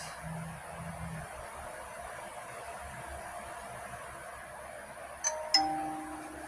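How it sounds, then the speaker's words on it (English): A quiet two-tone ding-dong email notification chime sounds near the end over a steady background hiss, with a soft lingering tone after it. "Ding dong, email."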